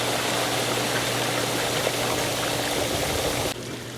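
Sand filter on a backyard pool, set to filter mode, pumps water in a steady, loud rushing flow with a low motor hum, alone without voices, easing slightly near the end.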